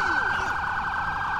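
A police car siren from the video game GTA IV wails loudly and continuously in a fast, rapidly warbling tone, close and unbroken.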